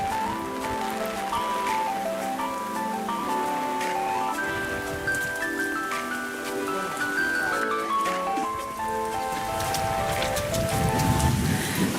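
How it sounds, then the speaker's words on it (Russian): Heavy monsoon rain in the mountains at Matheran makes a steady, close hiss of drops on surfaces throughout, mixed under a gentle melodic music track. "Здесь дождь очень интенсивный, очень обильный."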